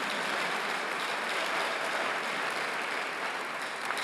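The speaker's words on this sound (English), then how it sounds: "Clap your hands." An audience clapping hands together, loud sustained applause from a large crowd that stays even and unbroken from start to finish.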